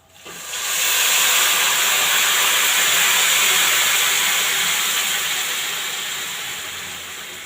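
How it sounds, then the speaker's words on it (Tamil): Tamarind extract hits a hot pan for temple-style puliyodharai, bursting into a loud, close hissing sizzle that holds steady and then slowly fades. "புளி கரைசல் விட போகிறோம்"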